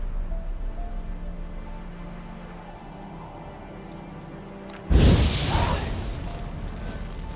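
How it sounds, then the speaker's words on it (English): A fire-sign spell from The Witcher 3 bursts out suddenly after a quiet stretch, a loud roaring whoosh of flame that flares up and then fades into a lingering low rumble. "Now for a shot of Igni"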